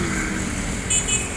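Road traffic hum as the Yonda Prima intercity bus from Padang, West Sumatra, arrives in Palembang, a steady engine drone with a short horn toot near the end.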